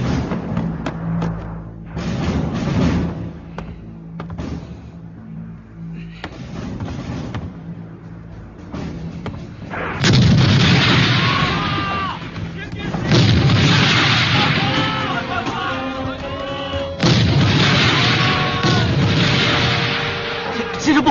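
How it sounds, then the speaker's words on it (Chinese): Artillery fires incendiary shells at Hankou in a war drama, with repeated heavy booms and rumbling blasts that come in loud bursts and alternate with quieter stretches where voices can faintly be heard. "他们用烧夷弹直接轰击汉口。"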